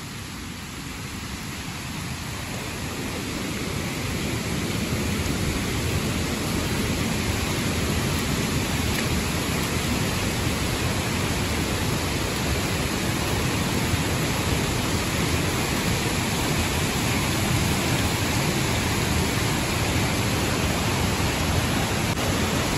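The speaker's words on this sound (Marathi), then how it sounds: "किती पाणी बघा इथे, वाहणारं पाणी।" A forest stream swollen after rain rushes past nearby, a dense, continuous roar of flowing water that swells slightly in the first few seconds and then holds steady.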